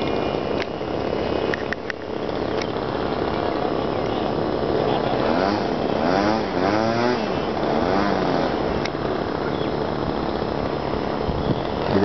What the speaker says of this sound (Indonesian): kita dengar isyarat daripada Faizal akan membuat landing